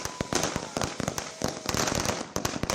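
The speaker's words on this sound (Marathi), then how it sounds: "मेहसाणामध्ये फटाके आणि मिठाई वाटून त्या ठिकाणी जल्लोष साजरा करण्यात येतोय" Firecrackers burst in a rapid, irregular crackling string at a street celebration in Mehsana, the sharp pops sounding fairly distant and continuing throughout.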